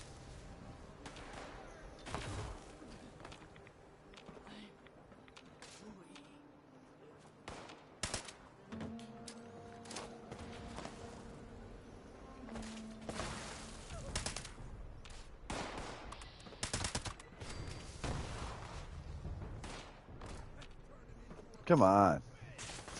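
Gunfire in Fallout 76 cracks out as scattered single shots and short bursts at moderate distance, irregular and fairly faint, with brief speech in between.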